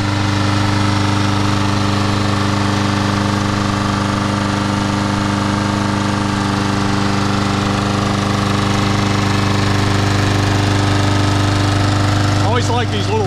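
A small red Troy-Bilt lawnmower engine runs steadily and loudly up close, with an even, slightly knocking drone held throughout.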